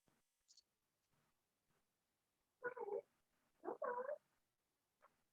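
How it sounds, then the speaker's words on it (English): At a door, a cat lets out two loud, drawn-out yowling meows close by, with faint rustles and a brief shorter cry afterwards in an otherwise quiet room. "my bad cat is going nuts at my door"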